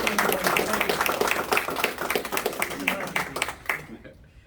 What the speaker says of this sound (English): Big round of applause for the entire team here at Classical.